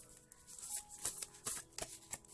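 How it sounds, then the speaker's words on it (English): Soft, quick riffling of tarot cards in short bursts, crisp and close, with brief pauses between shuffles. "One more shuffle."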